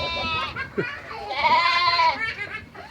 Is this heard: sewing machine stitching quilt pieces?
no